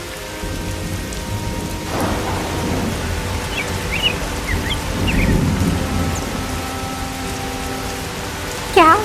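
Steady rain falls with rolling thunder rumbling through, swelling midway. Faint bird chirps and a sharp crackle come near the end.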